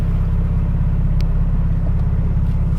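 A widebody Honda Civic with new springs and smaller tires backs out of a driveway, its engine a steady, close, low rumble with a faint pulsing throb and no voices.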